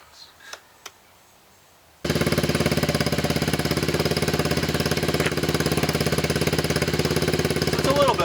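Yamaha TTR90 dirt bike with a modified stock exhaust starts after a few quiet knocks, then idles with a loud, close, rapid single-cylinder putter that holds steady for about six seconds.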